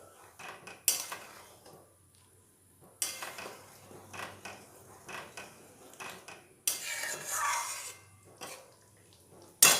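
Bengali prawn malai curry being stirred in a pan after more garam masala goes in: intermittent metallic scrapes and clinks of a spoon against the pan, separated by short quiet pauses.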